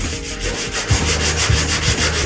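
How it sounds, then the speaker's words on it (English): Steady scratchy abrasive rubbing, a continuous close-up sanding stroke across the painted bodywork of a 1974 Chevy Nova, with a few brief low thumps as the block shifts. "At any edge, if you're sanding and you go too much on the edge"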